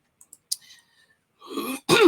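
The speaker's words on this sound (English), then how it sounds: "I've had this cough for like 2 weeks" A few small throat sounds lead into two harsh, loud coughs close to the mic, the second one bursting out sharply near the end.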